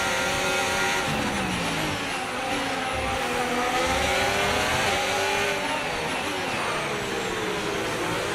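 Formula 1 car engine in F1 25, screaming at full throttle with a continuous high-pitched whine and rising and falling gear shifts, loud and sustained throughout.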